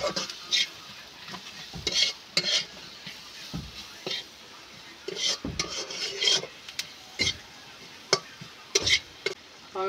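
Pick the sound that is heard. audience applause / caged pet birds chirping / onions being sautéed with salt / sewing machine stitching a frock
onions being sautéed with salt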